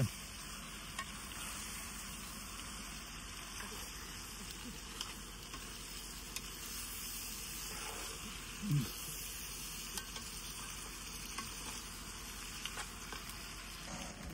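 Pasta frying in a pan gives a low, steady sizzle throughout with one brief stir. The sound stays fairly faint and there is no talk.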